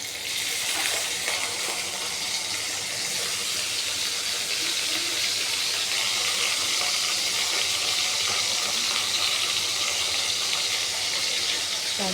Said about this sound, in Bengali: এর মধ্যে কিমা করে রাখা চিকেনগুলো দেবো।